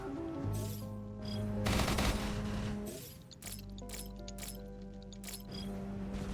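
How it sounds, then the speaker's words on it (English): Gatling guns in the video game Industries of Titan fire rapid rattling bursts over a steady synthetic game hum, with a few brief pauses between volleys. "That's the power of the Gatlings, just like scattering fire everywhere."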